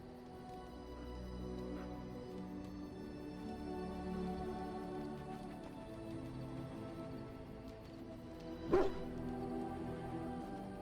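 Mabari war dog in Dragon Age: Origins letting out one sharp, loud bark late on, after a stretch of quiet whimpering and yips over soft ambient background.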